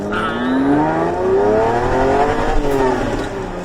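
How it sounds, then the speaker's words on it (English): A Ferrari Testarossa engine gurgles and revs up close while driving, its pitch rising steadily and dipping briefly as it shifts gears, loud and continuous. "you're shifting and you're hearing the gurgle of the engine"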